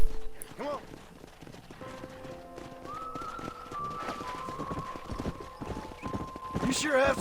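Horses in the Red Dead Redemption video game clip-clop and gallop with a steady hoof rhythm under game music and tonal effects, growing slightly louder toward the end, with a voice speaking over it.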